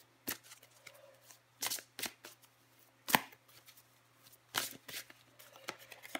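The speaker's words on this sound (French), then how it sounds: "Je vais encore tirer une carte pour vous, les cancers." A deck of cards shuffled before a card is drawn, heard as a handful of sharp riffling bursts with quiet gaps between them, close and crisp.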